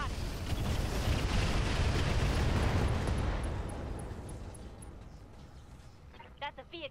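Weapons fire and explosions in the Roguetech video game: a loud, sustained rumbling barrage that swells and then fades over several seconds, with a brief voice near the end.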